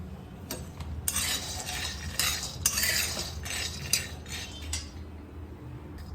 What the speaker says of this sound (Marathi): शेंगदाणे पण आपण मस्त भाजून घेऊ